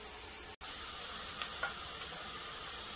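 Sliced onions frying in a pan for drumstick sambar make a continuous soft sizzle with a faint hiss. One sharp click breaks in early, and a couple of light clinks follow.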